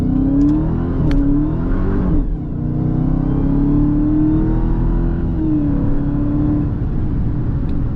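A 2022 Dodge Charger Hellcat engine revving close by, its deep rumble rising and falling in several long pulls with a throaty, sustained roar.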